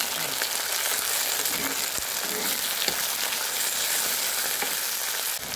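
Small cut tomatoes sauté in a pan for a vegetable kurma, giving a steady, close sizzle with light stirring scrapes throughout and no one talking.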